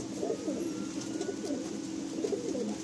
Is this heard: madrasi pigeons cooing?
yes